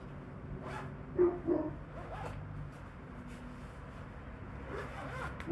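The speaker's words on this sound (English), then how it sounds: "The fabric on this entire pram can also completely be unzipped and removed." A zipper on the fabric cover of a pram-style beach wagon is pulled in a couple of short, quiet zips against a faint, muffled background.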